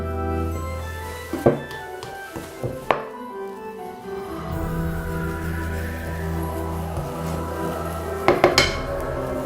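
A utensil scrapes and stirs cocoa and flour together in a mixing bowl, giving soft rubbing and mixing sounds broken by a few sharp clinks and knocks against the bowl's side, near and fairly loud.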